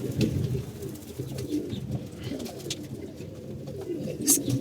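Pigeons kept for breeding coo in low, throaty, rolling pulses that overlap close by, with a faint chirp near the end.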